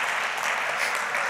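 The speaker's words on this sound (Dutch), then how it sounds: "Gewoonlijk krijg ik dan applaus" Audience applause at a lecture on the power of music, a dense, steady wash of many hands clapping throughout the short stretch.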